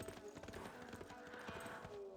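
Hooves of horsemen units clip-clop in the Civilization 6 strategy game, a quiet, steady run of light rhythmic hoof strikes spread across the whole stretch over a soft game background.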